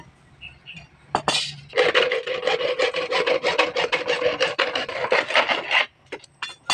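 A saw rasps back and forth through PVC pipe in quick, steady strokes, a close, loud scraping that starts after a brief pause and runs for several seconds with a few short breaks.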